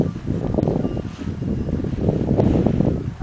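Wind buffets the microphone during a hot air balloon flight, making a steady low rumbling roar with gusty surges that goes on throughout, with no voices.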